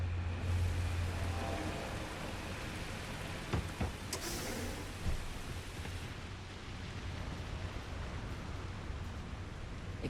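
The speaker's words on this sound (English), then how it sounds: "Sounds like radio static, but I'm pretty sure it's just the rain outside." Steady hiss of rain falling outside in the video game Starfield, even and continuous like radio static, with a few faint thuds and crackles mixed in; no voices.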